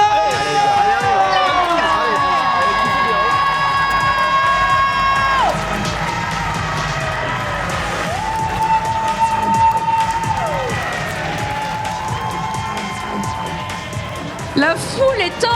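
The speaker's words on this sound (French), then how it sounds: "La foule est en délire pour cette grande finale." A loud crowd cheers, whoops and shouts at the grand final of a gaming event at Paris Games Week 2025, mixed with an announcer's voice and sustained tonal sounds.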